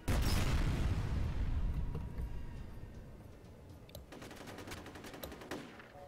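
A grenade blast in the video game F.E.A.R. hits hard and close at the start, a loud roaring burst that slowly fades into crackling debris and scattered ticking with no voices.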